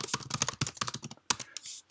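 Quick bursts of keystrokes on a computer keyboard as an admin password is entered, crisp close clicks in an uneven run with a short pause before a final few taps.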